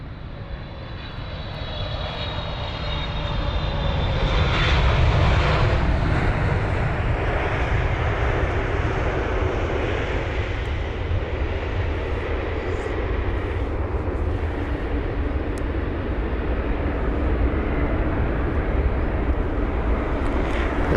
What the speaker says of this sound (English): Here's the Air Canada 777-300 on finals now, the 300 extended range, or ER, arriving from Vancouver